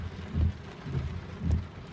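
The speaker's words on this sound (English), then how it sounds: "Heavy rain, a couple lightning strikes." Heavy rain hisses steadily during a storm while low rumbling thunder pulses in three soft swells, distant and muffled beneath the downpour.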